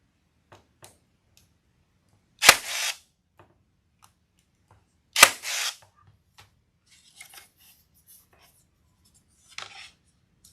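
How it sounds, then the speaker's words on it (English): Two sharp, loud snaps from a staple gun driving staples into a leopard-print welcome wreath, spaced a few seconds apart, each followed by a brief rustle, with faint handling noises and quiet pauses between. "I'm going to use my staple gun today."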